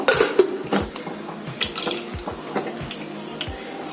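A lid clatters onto a cooking pot holding tomato chutney with turmeric and salt, giving a few sharp metallic clinks and knocks in a quiet kitchen with no talking.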